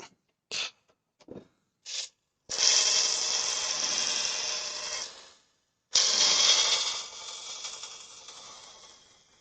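A woodturning tool is sharpened on a powered grinder in a workshop, with a few brief metallic touches followed by two sustained grinding passes of about three seconds each, loud and close, with no talk.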